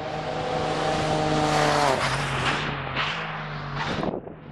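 Rally cars at the Rallye du Mont Blanc roar past close by, engine notes climbing then dropping with a tire squeal as one skids through, followed by sharp revving bursts echoing in the valley.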